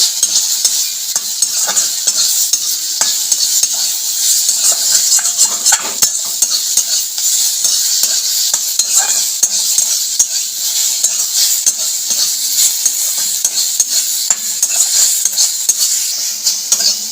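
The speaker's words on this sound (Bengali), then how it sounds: "নেড়ে চেড়ে মিশিয়ে নেব।" Brinjal and neem leaves frying in a wok while being stirred, a steady bright sizzle with repeated scraping and clinking of the spatula running throughout, close and loud with no voices.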